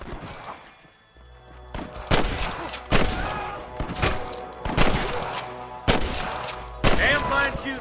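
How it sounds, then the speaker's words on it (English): Gunfire in the video game Red Dead Redemption: a steady run of loud single shots about one per second, with a low background rumble and some faint game sounds between the shots. "Damn fine shooting, boys."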